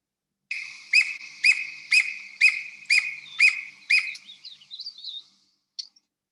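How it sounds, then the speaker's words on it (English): A squirrel cuckoo calls in the Yucatan, a clear series of seven evenly spaced, loud sharp notes followed by a few weaker trailing chirps and one last brief note. "And a squirrel cuckoo."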